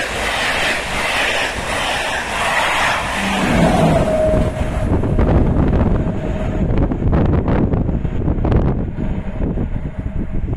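Wind buffeting a microphone at a train station, a loud, rough, continuous rumble and roar that keeps going throughout, joined partway by a brief tonal whistle.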